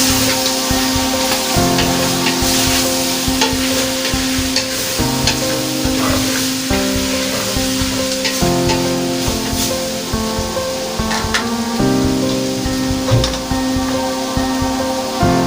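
Beef sautéing in a pan for balbacua, a loud, steady sizzle with continual stirring scrapes under music with a sustained tone.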